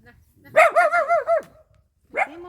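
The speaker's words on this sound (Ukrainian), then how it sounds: "от скажи, чого ти гавка?" A puppy gives a short run of yappy, whiny barks, then one more bark after a brief pause, close up.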